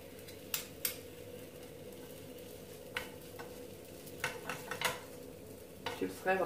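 Mkhamar flatbread frying in a little oil in a pan, a steady soft sizzle with scattered scraping and clinking of a utensil against the pan, close and moderately quiet.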